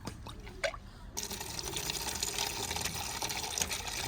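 Water rushes into a container for pigeons, starting after a second of quieter dripping and then running as a steady, broad, close hiss that fills the rest of the moment.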